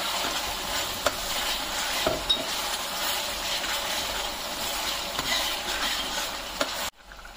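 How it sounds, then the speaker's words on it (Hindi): Pav bhaji with masala being stirred in a pan, a dense continuous scraping and sizzling close up with no talk, cutting off abruptly near the end. "इसमें हम 1 टेबल स्पून और डाल देंगे और इसे अच्छी तरीके से हम चला लेंगे"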